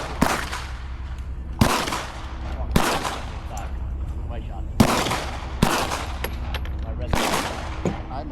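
Gunshots at the Calverton shooting range, six sharp, loud reports spaced a second or two apart, each followed by a short decaying echo over a steady outdoor background.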